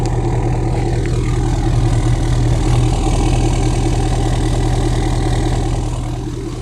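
A Ford F250 with a 6.7L diesel idles outdoors, its exhaust giving a loud, steady, deep rumble that holds even throughout and eases slightly at the end.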